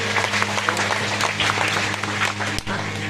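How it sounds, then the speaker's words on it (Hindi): A seated religious gathering bursts into loud, dense applause at a spiritual discourse, a steady wash of many hands clapping close by for about three seconds. "ताली बजाते एक बार जोर से।"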